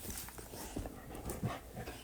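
A dog pants close to the microphone in quick, soft, rhythmic breaths, faint against a quiet indoor room with small shuffling sounds.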